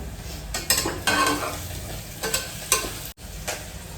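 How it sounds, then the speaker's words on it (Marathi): Onion frying in a pan, a close hissing sizzle with several bursts of spatula scraping and stirring, one brief dropout near the end, no speech. "कांदा चांगला भाजलाय"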